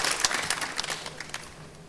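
A small round of applause from a modest crowd, clapping quickly at first and then thinning out and fading over a couple of seconds.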